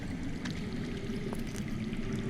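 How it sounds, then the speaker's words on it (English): Water flowing underground rushes in a low, steady murmur with a faint trickle on top, muffled and distant, with no voices. "I hear water. From underground."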